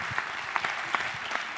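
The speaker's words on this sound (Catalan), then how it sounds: "pel Toni i per la Bruna un fortíssim aplaudiment" Brief, fairly faint audience applause at a school projects showcase, a soft patter of clapping with a few distinct claps poking through.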